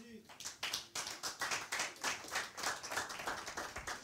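Church congregation clapping in rhythm, loud and close, with sharp repeated handclaps in a steady beat and voices calling out underneath.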